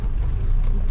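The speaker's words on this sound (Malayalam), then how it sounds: "നല്ല കാറ്റ്." Strong wind buffeting outdoors on an off-road hill track at Mamalakandam, a loud, close, steady low rumble of gusts against the microphone lasting under a second, with no voices.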